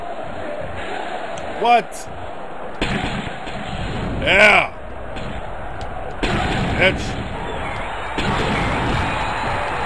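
Crowd noise in the wrestling video game MDickie's Wrestling Revolution, a steady roar of cheering with sharp slams and impacts, under someone shouting excitedly.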